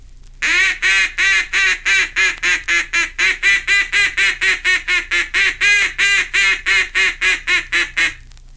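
A duck call blows a long, steady string of loud nasal quacks, about two dozen evenly spaced, mimicking hen mallards.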